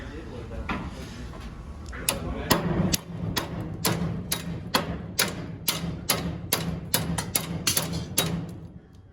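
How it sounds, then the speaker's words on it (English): Repeated sharp metallic hammer strikes driving pins into a Fisher/Western salt spreader chain, about a dozen in a steady rhythm that speeds up slightly, over a low background hum. "you do have to hammer these pins the rest of the way in"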